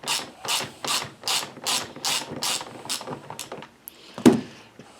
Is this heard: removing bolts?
yes